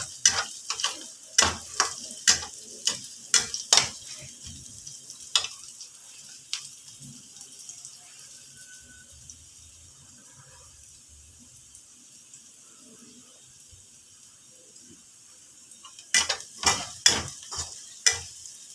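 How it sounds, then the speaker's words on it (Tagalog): Onions browning in a frying pan, stirred in bursts of rapid scraping clatter at the start and end with a quieter stretch of faint sizzle between, close and without voices. "So, brown na guys ang aking sibuyas."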